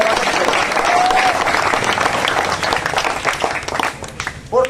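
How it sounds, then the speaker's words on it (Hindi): Crowd at a village welcome gathering breaks into loud sustained applause to greet a guest, dense clapping that thins toward the end, with voices and a whistle-like tone over it. "एक बार जोरदार तालियों से उनका स्वागत करें"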